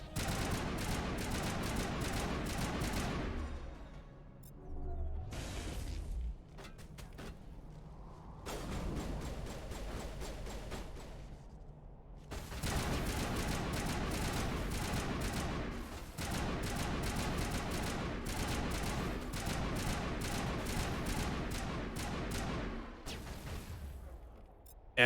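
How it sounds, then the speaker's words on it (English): Sustained bursts of gunfire from squadmate Garrus during a Mass Effect firefight, dense rapid volleys broken by short pauses, loud and continuous with layered shots and impacts. "There we go, now he's shooting."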